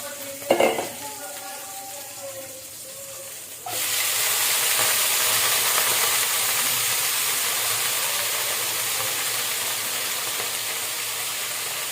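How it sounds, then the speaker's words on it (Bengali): Leafy greens drop into a hot oiled pan: after a few seconds of quiet kitchen clatter, a sudden loud, steady sizzle with steaming hiss takes over and holds to the end. "এবার আমি শাকটা ছেড়ে দিচ্ছি।"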